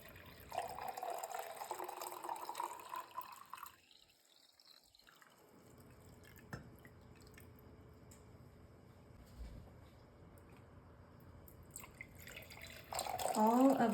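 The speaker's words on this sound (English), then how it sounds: "I'm gonna fill our wine glasses up with some water." Water poured into wine glasses, a close pouring and trickling sound with rising pitch as the glass fills, followed by quieter pauses and another burst of liquid at the end.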